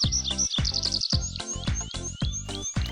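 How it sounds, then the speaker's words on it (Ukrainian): Several songbirds sing and chirp continuously in a spring outdoor setting, with rhythmic repeated phrases and bright high whistles layered over one another, fairly close and loud, no talking. "Птахи співають, аж заслухаєшся"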